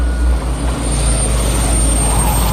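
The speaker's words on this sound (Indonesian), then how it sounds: "si Acil KW bisa memasuki pesawat tersebut dan pergi terbang" A spaceship lifting off and flying away in a film scene gives a loud, steady engine roar with heavy low rumble and a high whine, sustained throughout without speech.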